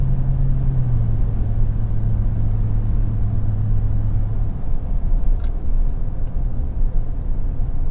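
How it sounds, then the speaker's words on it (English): Kumho Road Venture AT52 all-terrain tires on a Toyota Tundra cruising at about 60 mph, giving a steady low road rumble and tire hum inside the cab with a faint engine drone, quiet and continuous without talk. "listen to these tires"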